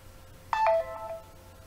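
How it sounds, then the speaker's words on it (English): A short phone notification chime plays during a mobile game, a bright tonal ding with a couple of quick stepped notes, close and alone over a faint hum. "Oh, I got a notification."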